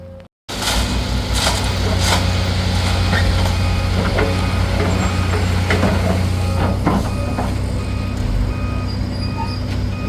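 Two dump trucks run loud and close while a stone driveway is laid, a heavy diesel rumble sustained throughout with intermittent clanks and knocks over the engine drone.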